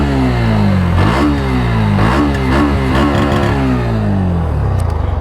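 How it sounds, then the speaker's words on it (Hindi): A Bajaj Pulsar NS125 motorcycle revs repeatedly, its exhaust note climbing and dropping in several loud, close bursts with no talking. "कुछ ऐसा साउंड आपको पल्सर NS 125 में देखने को मिलता है।"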